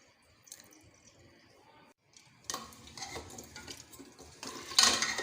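Fennel seeds roasting in a pot while being stirred, at first near-silent, then building into scraping, rustling and soft sizzling, with a louder clatter of the spoon against the pot near the end.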